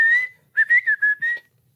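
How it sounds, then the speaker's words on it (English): A Hadzabe man in Tanzania whistles to communicate over distance: one long clear note, a pause, then a quick run of four or five short pitched whistles and a final held tone, clean and alone. "So they communicate from distances by whistling."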